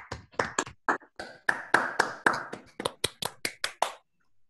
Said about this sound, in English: Maybe we can do a virtual clap.